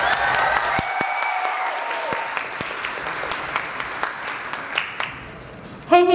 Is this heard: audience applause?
yes